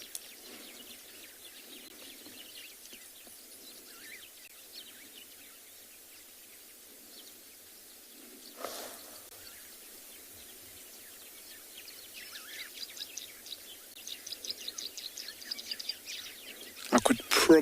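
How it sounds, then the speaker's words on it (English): Birds calling at sunrise on a Kalahari safari at Tswalu, including Cape turtle dove, Cape glossy starling and sociable weavers, with scattered distant chirps and twitters that thicken into busier, louder chatter near the end, and no talking. "I could probably, just from that moment of silence, hear about 5 different birds. Cape turtle dove, your Cape glossy starling, your sociable weavers."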